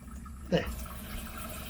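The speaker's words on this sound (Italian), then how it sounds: "Adesso fammi vedere l'acqua. Acqua calda." Hot water runs from a camper shower tap, starting with a sudden gush and then settling into a steady, moderate stream.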